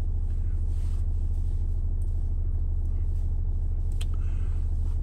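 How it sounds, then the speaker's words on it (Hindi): A car engine idles near Kasol on the way to Manikaran with a steady, deep, pulsing rumble throughout, a few faint clicks on top. "गाड़ी स्टार्ट कर लेते हैं यार थोड़ी सी"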